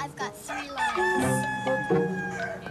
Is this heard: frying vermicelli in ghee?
no